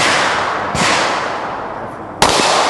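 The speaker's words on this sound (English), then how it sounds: "How to shoot guns properly" Two loud, sharp gunshots at a firearm training range ring out about a second and a half apart, each followed by a long echoing decay, close by with no talking.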